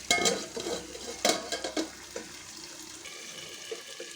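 Stuffed brinjal curry is stirred in a pan, with a few sharp clinks and scrapes of a spoon against the metal over a quiet, soft simmer.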